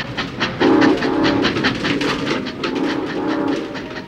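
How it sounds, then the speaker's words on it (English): A train rolls along with a steady rhythmic clatter of wheels over rail joints, a regular clicking beat over a low rumble, fairly close. "I feel the rhythm of the clickety-clack. The wheels are rolling down the railroad track."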